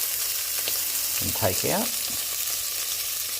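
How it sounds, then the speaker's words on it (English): Lamb offcuts browning in a frying pan give a steady, bright sizzle throughout, while a person speaks briefly in the middle. "Brown the meat in batches"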